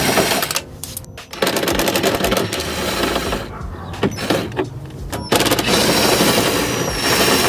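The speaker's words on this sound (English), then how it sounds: "I'm going to remove the three 10mm nuts that are holding the regulator in place." Ratcheting wrench loosening the 10mm nuts that hold the window regulator inside the door of a BMW E90 3-Series, a rapid clicking, buzzing mechanism heard close up in bursts with short pauses.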